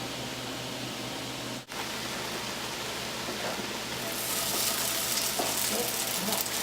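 Onions cooking in a pot for three bean chili give a steady, soft broadband sizzle that grows slightly louder and brighter near the end, with no talking.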